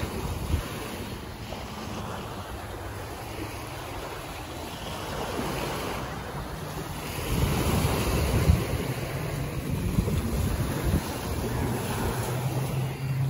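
Ocean waves break and wash in continuously at Penang, Malaysia, a steady roar of surf with gusting wind across the microphone and no clear voices.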